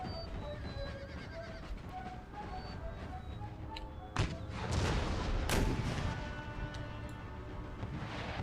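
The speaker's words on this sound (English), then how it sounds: "These cannons are not getting great shots." Cannons fire during a battle in the strategy game Empire: Total War, with a couple of heavy booms amid a busy, steady battlefield din that includes horses neighing and mixed rumbling.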